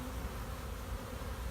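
A dense, steady hum of honeybees buzzes close by at the entrance of a hive holding a newly settled swarm in a bee yard, with no voices.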